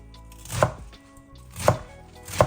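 A kitchen knife chops through homegrown collard greens on a cutting board, three distinct crisp thuds spaced about a second apart, close and alone with no talk.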